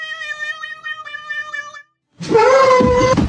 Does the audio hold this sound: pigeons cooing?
no